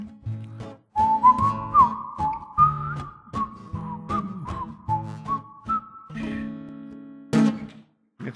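A person whistles a melodic tune with long held notes, the sound carrying a noticeable reverb tail in a church service setting, loud and close with no talking.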